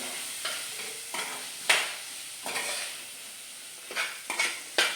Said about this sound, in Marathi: आता पण एक मटार टाकते काजू चांगली फ्राय करून घेऊया